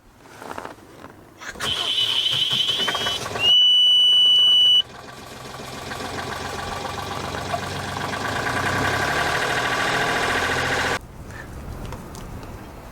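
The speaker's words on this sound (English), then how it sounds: "Let's see if the engine is going to start and run." A sailboat's rebuilt inboard engine cranks and starts after a high electronic warning beep, then runs at a steady, loud idle before it cuts off.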